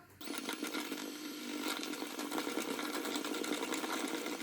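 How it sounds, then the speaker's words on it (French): Egg yolks are beaten with sugar for a custard cream in a steady, buzzing mechanical whir that starts abruptly and runs on evenly without talk. "Le temps que le lait chauffe, on va blanchir les jaunes d'œufs avec le sucre."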